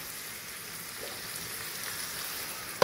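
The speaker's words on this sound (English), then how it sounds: "it's time to cover, to let it simmer." Chicken adobo simmers in a covered pan, giving a soft, steady sizzle and bubbling hiss that stays faint and even, ending in a brief clatter.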